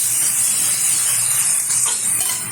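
Eggplant fried for a shaiting fish curry sizzles loudly and steadily in a hot pan, a dense close hiss that holds throughout.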